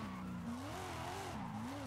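Steady, wavering tire squeal from a BMW M2 drifting in a racing video game, sustained and fairly faint with the engine droning underneath.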